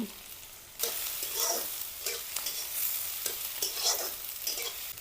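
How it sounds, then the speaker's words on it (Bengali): Chopped onion and green chilli hit hot mustard oil in a pan for egg paratha filling. A quiet start gives way to a steady close sizzle with occasional stirring scrapes, and no voices. "তেলের মধ্যে এখন পেঁয়াজ কুচি দিয়ে দেব কাঁচা লঙ্কার কুচি দিয়ে দেব"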